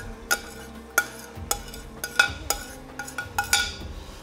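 Vegetables tipped into a pan with spices and stirred, giving a series of sharp utensil clinks and scrapes against the pan, about one every half second, close and fairly quiet with no talking.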